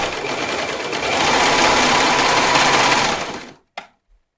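A sewing machine stitches elastic onto a swim top, running in a loud, close, steady whir for about three and a half seconds before stopping, followed by a brief click and a faint thump.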